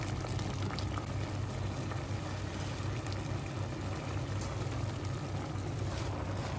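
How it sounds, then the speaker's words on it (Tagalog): A pot of mung bean stew with smoked fish boils steadily, a dense continuous bubbling and hiss, close and even throughout with no voices. "Kumukulo na siya"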